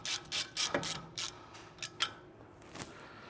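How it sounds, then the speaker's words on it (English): Brake rotor set screw being fitted to a BMW F30 rear hub, with a Zimmerman Z-coated rotor; close, quiet ratcheting clicks and scraping in short irregular bursts. "I'm gonna install the set screw just so the rotor can't physically go anywhere."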